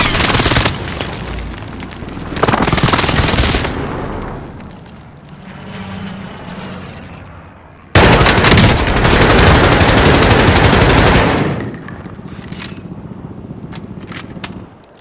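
Precision airstrike explosions and gunfire in Call of Duty: Modern Warfare: loud, roaring blast bursts that swell and fade, a second heavy wave of rumbling detonations, then scattered sharp shots trailing off.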